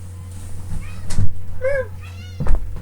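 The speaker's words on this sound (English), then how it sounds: "My cat is at the door." A pet cat meows at a door, giving a clear, close drawn-out meow amid knocks and bumps of the door, with a low steady hum in the background.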